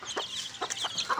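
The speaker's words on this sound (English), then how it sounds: "here is all of my chickens, adult chickens behind me, and here is the chicks with mom." Backyard chickens, both adult hens and young chicks with their mother, cluck and cheep in a close, busy chorus of short overlapping calls.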